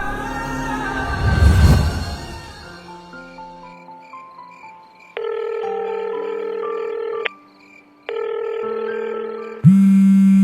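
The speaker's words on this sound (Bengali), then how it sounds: "ফোন তুলতে এত লেট কেন?" A telephone rings with a synthetic ringtone of stepped electronic tones, cutting in and out in bursts after a brief rough noise at the start; no one speaks.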